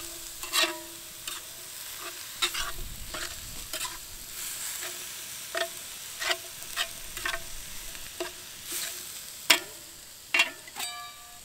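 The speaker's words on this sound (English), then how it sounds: "I want to brown this hamburger up and cook those onions down a little bit." Hamburger meat and onions brown in a pan over a campfire for chili, a soft steady sizzle punctuated by repeated crisp metal scrapes and taps of a utensil against the pan, no voices.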